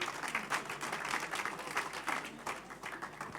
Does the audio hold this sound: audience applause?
yes